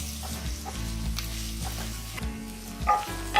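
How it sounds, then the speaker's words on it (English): Okra (bhindi) roasting uncovered in an open pan with mustard masala, a steady close sizzle broken by the scrape and clatter of a spoon stirring, with no talk. "keep stirring it while you are roasting it"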